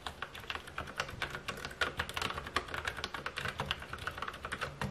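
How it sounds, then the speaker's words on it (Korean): Continuous rapid typing on a Logitech MX Mechanical Mini for Mac keyboard with brown tactile switches, producing dense, moderately loud clicky keystrokes at a steady, close rhythm with no talking. "축은 갈축이라서 적축만큼 조용하지는 않습니다. 어느 정도 소리는 난다고 보고 구매를 하셔야 할 것 같아요."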